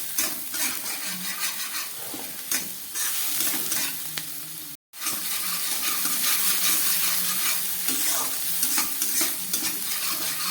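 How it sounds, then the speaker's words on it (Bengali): Garlic, onion and chilli paste fries in a pan with a dense, loud sizzle while a spatula stirs it in quick scraping strokes, briefly cutting out once before the frying continues. "রসুন পেঁয়াজটা একটু ভালো করে ভেজে নিলাম।"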